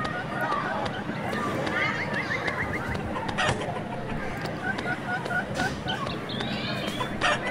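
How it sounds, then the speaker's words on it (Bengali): A white chicken clucking and squawking in the Meena Raju video game, short repeated clucks over background game music while a person talks throughout. "সাদা একটা মুরগি এখানে দৌড়াদৌড়ি করতেছে"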